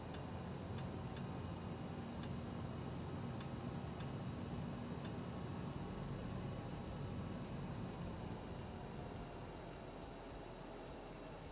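An airliner's engines spool up for takeoff on the runway in a flight simulator, a steady, dense, loud roar that holds even throughout, with faint regular ticking on top and no voices.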